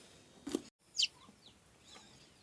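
Soft, sparse clucks and a few brief chirpy calls from hens nearby, quiet with short pauses between them.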